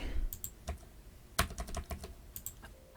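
Computer keyboard keys pressed one at a time, including the Escape key, in a quiet room: sparse, crisp clicks with short gaps, a few landing close together, with no talking.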